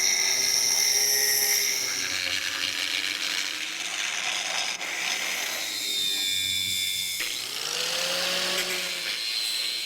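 An angle grinder's cut-off wheel bites into the rotted steel frame of a C10 truck, whining at a high pitch that rises and falls as the load changes, loud and close, with no talking.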